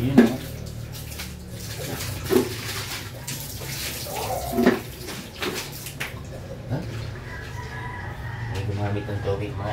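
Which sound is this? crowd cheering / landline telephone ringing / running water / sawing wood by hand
running water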